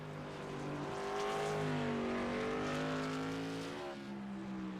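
A Whelen Modified race car engine in iRacing at Concord Speedway drones loudly and steadily, its pitch climbing and shifting through gears as the car accelerates onto the track, alone without talk.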